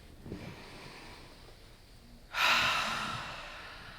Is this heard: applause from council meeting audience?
no